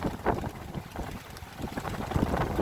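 Wind rushes and gusts over a small sailboat cruising under sail in a moderate gust, with low rumbling buffeting and water noise rising and falling steadily throughout.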